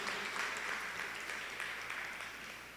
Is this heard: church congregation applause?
yes